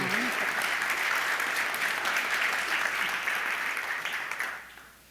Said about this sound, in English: on your feet, a great big round of applause for Alisha.